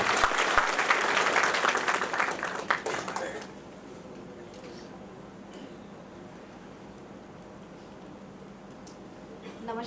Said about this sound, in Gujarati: આપણે તાળીઓથી બેનશ્રીનું પહેલા સ્વાગત કરીશું.